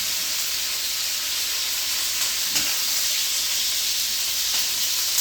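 Beef sears in a hot pan over medium-high heat for a stroganoff, giving a steady, even sizzle and hiss that runs without a break. A few soft stirring scrapes come through, and no one speaks.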